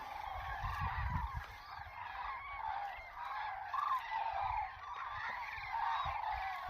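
A flock of cranes frightened by fireworks circles in the dark, calling to one another with overlapping honking, bugling cries that sound fairly distant, over a low rumbling background.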